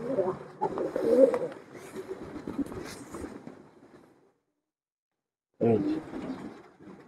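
Pigeons in a home loft with nests and eggs, soft low cooing under a person talking nearby, broken by a pause of silence before the voice and birds resume.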